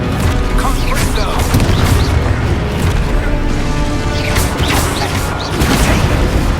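A Confringo fire spell blasts in the Hogwarts Legacy video game, a loud, dense booming explosion with crackling debris rolling on for several seconds, a second surge near the end, game sound mixed throughout.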